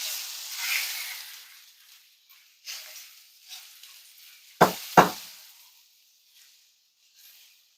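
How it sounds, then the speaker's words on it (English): A spoon stirs ground beef into sauce in a pan with the heat off, making soft, sparse scraping and hissing with two sharp knocks against the pan near the end. "just give this a really good stir to get that sauce well incorporated with the beef"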